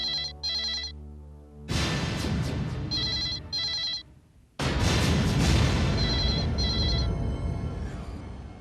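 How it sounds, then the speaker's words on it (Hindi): Telephone bell ringing in repeated bursts of bright chiming tones, interrupted by heavy booming low-end crashes that swell and fill the rest, fairly loud with no talking. "Come on, pick up the phone"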